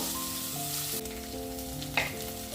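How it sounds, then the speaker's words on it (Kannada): Urad dal sizzling in hot oil in a pan, a steady close frying hiss with tonal hum and a brief stir clatter near the end. "ಈ ಉದ್ದಿನ ಬೇಳೆ ಉಂಟಲ್ಲ, ಸ್ವಲ್ಪ ಬ್ರೌನ್ ಕಲರ್ ಬರುವ ತನಕ ಇದನ್ನು ಫ್ರೈ ಮಾಡಬೇಕು"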